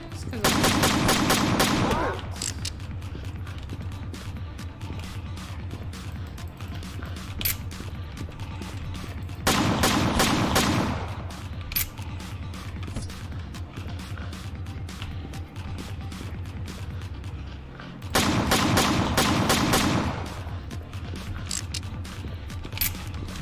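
Gunfire from a horror video game, three loud bursts of rapid shots spaced several seconds apart, with a steady mechanical game ambience underneath.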